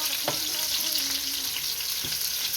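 Chopped garlic fries in a pan with a dense, steady hissing sizzle, close up, with a couple of soft knocks of a spoon stirring and no voices.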